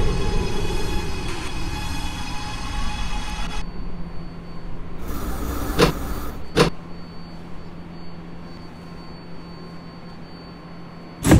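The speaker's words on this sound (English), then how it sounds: "This is a Brooklyn-bound A Express train." An R211A A Express subway train in the OpenBVE simulator, a loud rolling rumble with a rising whine that fades to a quieter hum, a few sharp clicks and clunks along the way.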